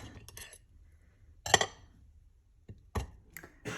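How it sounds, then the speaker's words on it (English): Cutlery clinks and scrapes against a plate as a fork and knife cut into an open-face gluten-free sandwich, a few sharp, distinct strikes spaced apart in a quiet room. "I got to be posh and eat my sandwich, my open face sandwich with a fork and knife."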